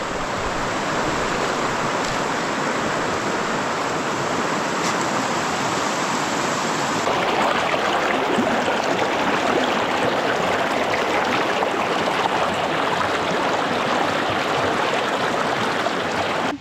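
Steady rushing water of a clear Carpathian forest stream, continuous and fairly loud, with a brief shift in texture midway and no voices.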